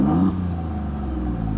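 An Alfa Romeo Giulia QV, idling in neutral, is revved once. The loud, muffled engine note rises sharply, then settles into a steady, deep idle rumble.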